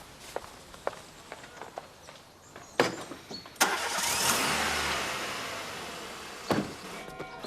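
Car doors thud shut and the engine cranks and starts, then settles into a steady idle as the car prepares to drive off, with scattered footsteps and clicks around it and no talk.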